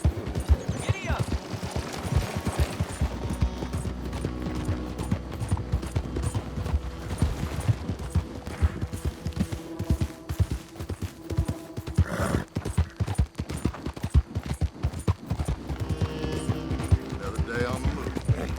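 Horse hooves clip-clopping at a gallop in Red Dead Redemption 2, a quick, rhythmic drumming with an occasional whinny and some background game sounds, with talk over it.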